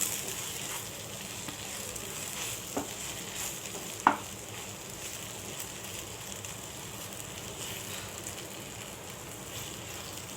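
Eggplant pieces fry in a pan with two tablespoons of chili powder while being stirred, making a low steady sizzle with a couple of sharp spoon clicks against the pan.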